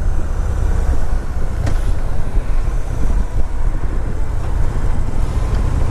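A pearl white Victory Cross Country motorcycle cruising on a test ride, a loud, steady low engine rumble mixed with wind and road noise throughout, close and continuous.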